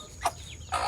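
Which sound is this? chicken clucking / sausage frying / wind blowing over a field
chicken clucking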